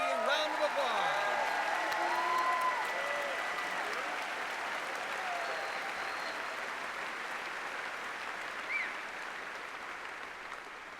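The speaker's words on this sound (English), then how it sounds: "Let's all give them a RIT round of applause." A large convocation crowd at RIT applauds, sustained broad clapping from many people that swells and then slowly fades, with a few voices audible early on.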